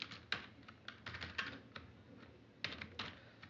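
Typing Python code on a computer keyboard: close, quiet key clicks in short irregular bursts with pauses between, no voices over them.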